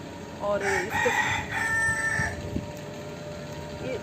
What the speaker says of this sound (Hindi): हमारा मुर्गे ने अजान दे दी है इवनिंग टाइम की।